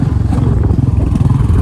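A Royal Enfield Bullet motorcycle engine, prone to misfiring, warms up at idle nearby with a steady, low, thumping beat that runs loud and unbroken throughout.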